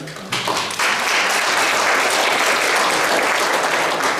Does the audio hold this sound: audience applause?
yes